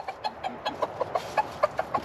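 Backyard chickens cluck close by while pecking at fresh vegetable scraps from bolted lettuce, a quick run of about a dozen short, sharp clucks in an uneven rhythm with no talking.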